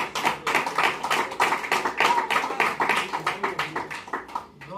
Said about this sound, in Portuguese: Dá uma salva de palmas bem alegre para Jesus.